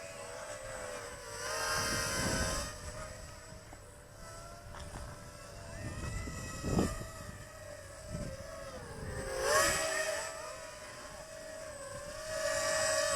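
A LIAN SHENG LS-215 micro quadcopter drone hums steadily in flight nearby, its small motors whining and shifting pitch as it climbs, drops and moves around, with occasional soft thumps.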